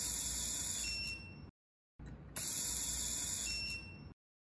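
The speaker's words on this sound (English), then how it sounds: "To start the STP series, push down the screwdriver for clockwise rotation." An AWP STP cordless inline screwdriver for production assembly whirs with a high-pitched whine in two bursts of about a second and a half, separated by a short silent pause, close and steady.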